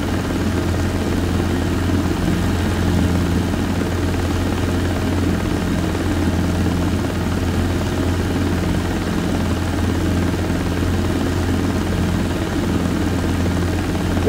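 A Robinson R22 helicopter in flight gives a loud, constant rotor and piston-engine drone with a steady low throb, unbroken and close, with no voices.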